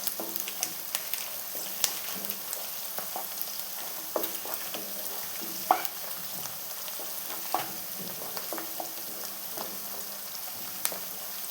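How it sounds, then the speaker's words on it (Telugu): Chicken curry frying and being stirred in a pan, a soft continuous sizzle with scattered scraping clicks from the spoon, fairly quiet. "ఇట్లా గోలాలి."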